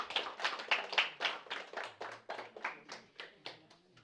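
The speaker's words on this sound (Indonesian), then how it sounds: "Beri tepuk tangan yang meriah" A small student group in a classroom claps for the presenting group, a light, fairly regular run of distinct hand claps at close range that continues evenly and fades slightly toward the end.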